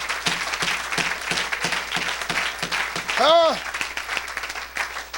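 A church congregation claps in a steady rhythmic beat, loud and close, while a voice speaks and rises briefly in a drawn-out shout over the applause.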